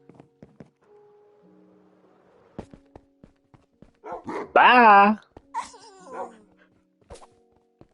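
A Minecraft dog gives a few short barks and whimpers amid sparse game clicks and footsteps, with a louder yelping burst in the middle while a person speaks briefly nearby.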